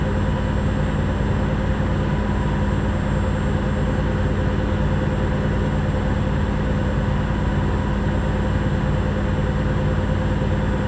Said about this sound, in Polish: to wsłuchajmy się w dźwięk silnika